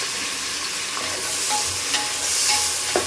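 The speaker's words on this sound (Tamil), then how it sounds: "அந்த வெங்காயத்தையும் இதில் தக்காளியும் கூடையும் சேர்த்து ஏன்னா காய்கறிலாம் சேர்த்து வதக்க போகிறோம்" Onions and tomatoes sizzle and crackle in hot oil in a pan as they are stirred and sautéed for a black-eyed pea curry, a loud, steady frying hiss broken by scraping stirs, with no talking.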